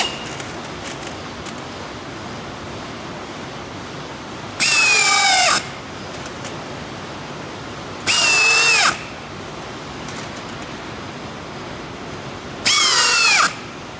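A power drill drives self-tapping screws in three short loud bursts, each a rising, squealing whir lasting about a second, separated by quiet pauses.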